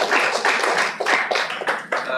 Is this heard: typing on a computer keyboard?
no